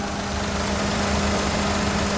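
A 2004 Daihatsu Move Custom R with an intercooled turbo engine idles steadily with the hood open, a continuous close rumble and hum with no talk over it.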